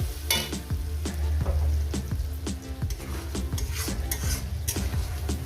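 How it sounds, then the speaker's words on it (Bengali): Spice paste for mutton kosha fries in a pan under a spatula that scrapes and taps rhythmically about twice a second over a low, steady sizzle. "এই মশলাটাকে আমি সুন্দর করে মিনিমাম আরও চার পাঁচ মিনিট ধরে এভাবে কষিয়ে নিই"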